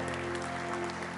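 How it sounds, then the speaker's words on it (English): Church congregation clapping hands during a Sunday service, a soft, steady patter of many hands under a sustained organ-like tone, fairly distant and quiet. "Give the Lord a hand clap."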